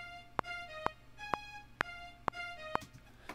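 Sharp metronome-like clicks tick at a steady pace, about six in a row, over a sustained tonal chord in the background.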